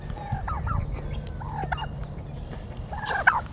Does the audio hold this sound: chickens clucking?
yes